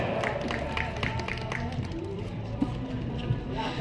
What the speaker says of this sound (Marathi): आदरणीय दादांच्यासाठी आपल्या सर्वांच्या जोरदार टाळ्या